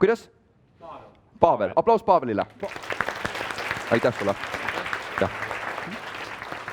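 An audience at a 2019 leadership conference breaks into loud, sustained applause after someone speaks briefly, and the clapping carries on steadily to the end.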